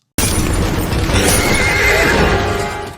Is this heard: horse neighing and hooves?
yes